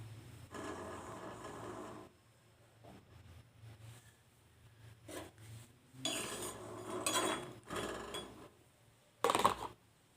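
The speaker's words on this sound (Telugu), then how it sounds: "కొంచెం బాండి ఎక్కగానే ఏవైతే వేసేస్తున్నా బఠానాలు" Green peas dry-roasting in a hot pan, heard as quiet, intermittent rattling and scraping bursts of stirring against the pan, separated by near-silent gaps, with one sharper clatter toward the end.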